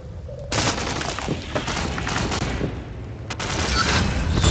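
Gunfire in the online shooter Ghost Recon Online, a dense and continuous mix of rapid shots, booms and crashes of moderate loudness with no clear pauses.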